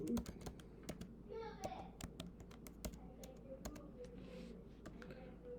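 Typing a search on a computer keyboard: steady, close clusters of crisp key taps over a constant low room hum, with faint background voices in places.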